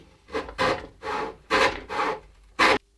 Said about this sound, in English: we'll just take the rasp and clean it up